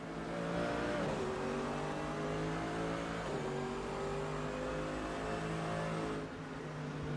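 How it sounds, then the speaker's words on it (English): GT race cars at Portimao during a six-hour endurance race, one overtaking a Midas Racing Lamborghini into a hairpin: loud continuous engine roar with rising and falling revs and gear shifts, close and sustained throughout. "FNL trying to lap the Midas Racing Lamborghini as the Project A car flicks by as well"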